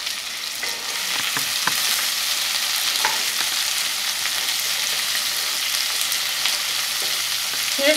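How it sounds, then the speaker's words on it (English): Onions and tomatoes sautéing in a pot give a steady, hissing sizzle with occasional scrapes from stirring, close and continuous with no talking. "You're just going to saute this until the onions are translucent and the tomatoes have cooked down."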